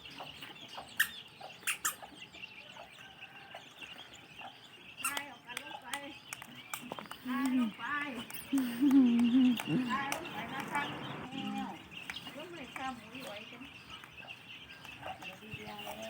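Baby chicks cluck and peep while pecking at termites brought to them, with scattered chirps and soft clucks, some rising louder midway, as people talk nearby.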